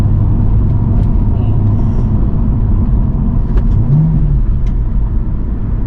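A BMW M235i engine rumbles loudly and steadily, with a quick rev-matching blip partway through as the driver downshifts.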